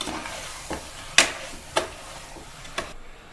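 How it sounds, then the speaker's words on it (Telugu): A spoon stirring turmeric into mutton curry in a pan, with a few distinct scraping knocks against the pan over a soft, steady sizzle. "ఇలా 2 వేసిన తర్వాత బాగా కలిపించుకోవాలి ఫ్రెండ్స్"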